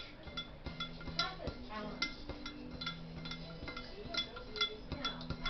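Spoon clinking and scraping against a bowl while stirring homemade French dressing sweetened with corn syrup, a quick irregular series of light taps and clinks, fairly quiet and close.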